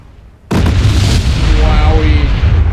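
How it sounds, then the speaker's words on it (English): A torpedo strikes a ship in the submarine game Silent Hunter IV, a sudden loud deep explosion that bursts in after near-silence and then rumbles on with a long, heavy roar. "Torpedo impact."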